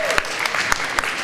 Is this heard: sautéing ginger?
no